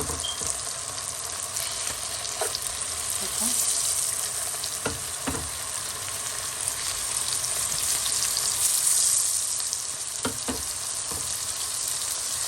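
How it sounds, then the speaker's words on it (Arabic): Chicken slices frying in butter in a pan give off a steady, close sizzle, with occasional clicks and taps of stirring over the constant hiss and no voices. "بعد ما خلينا الزبدة راح انزل الشرايح مال الدجاج بهالطريقة هاي"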